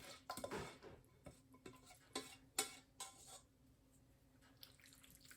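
Twisty Meal pasta spooned into a 2-quart cooking dish: soft scrapes and wet plops with sharp clinks of a spoon against the dish, irregular and close, on a quiet background.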